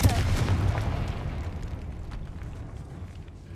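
A Confringo blasting spell goes off in Hogwarts Legacy, a deep booming explosion at the start that rumbles on and fades slowly in a stone catacomb, alone and fairly loud.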